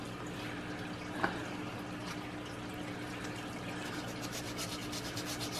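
Sandpaper rubs steadily over a painted brass chandelier during wet sanding, a soft close scratching with faint watery texture and one small knock, and no one talks.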